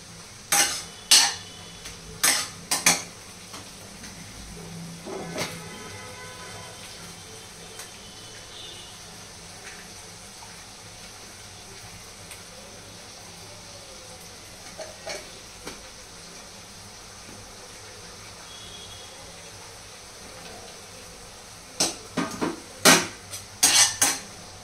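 A metal spatula clanks and scrapes in a pan while tomato and green chili paste with stock is sautéed for a chicken curry. Sharp bursts of utensil clatter come at the start and the end, with a faint, low frying hiss in between.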